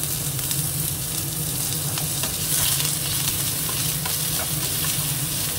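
Chopped onion frying in hot oil in a pan just used for amudi fish, a loud, continuous sizzle with light stirring scrapes, no voices over it.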